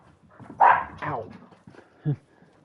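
A dog dashing about excitedly outdoors on a mountain hunt, giving a couple of short yips and whimpers amid rustling movement and a brief thump, heard close by with faint talk.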